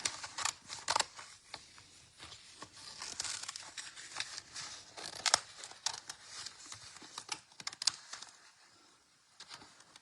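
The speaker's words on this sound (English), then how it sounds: "And so I need my scissors, and we'll just cut this out." Scissors snip through a paper transfer sheet close by, with repeated crisp cuts and crinkling of the page, interrupted by short pauses and no talking.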